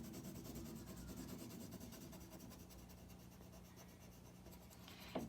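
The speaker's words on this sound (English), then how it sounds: "I'm going to color this whole section, pushing down pretty hard with my pencil" A pencil is pressed hard against paper to colour in a section of a drawing, giving a continuous close, gritty rubbing scratch with a brief sharper stroke near the end.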